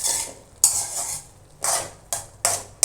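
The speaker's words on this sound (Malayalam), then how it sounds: "എല്ലാം ഒന്ന് യോജിപ്പിച്ച് കൊടുക്കാം കേട്ടോ." Mushroom masala being stirred and mixed in a pan, a spoon scraping through it in four or five separate sweeping strokes with short pauses between, close and fairly loud with a faint sizzle underneath.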